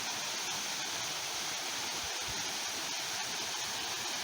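Madison Creek Falls, a waterfall with reduced flow late in the season, gives off a steady broadband rush of falling water that stays constant and close throughout, with no voices.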